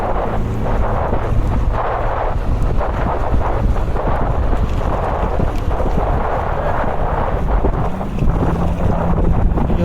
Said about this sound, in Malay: Hujan lebat sangat dah.